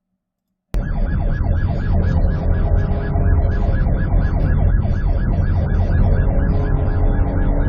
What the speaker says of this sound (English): They probably hear the siren right now.